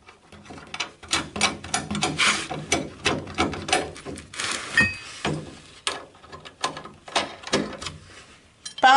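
A ratchet tightening nuts on the trunk hinges of a Citroën Traction 11B, giving quick repeated clicking strokes in bursts with brief pauses and a few metallic clinks, close by.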